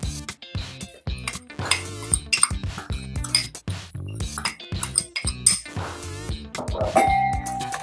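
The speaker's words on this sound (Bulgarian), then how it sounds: "И бъркам на ръка." Sour cream and powdered sugar are stirred by hand in a deep bowl, a utensil clinking and scraping against the sides in a steady, close, repeated rhythm with no talking.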